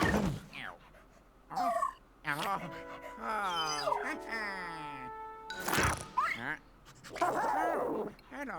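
In Luigi's Mansion 3, a cartoonish dog yips and whimpers in short bursts with a few whiny, drawn-out cries, close and fairly clear, with a person talking between them.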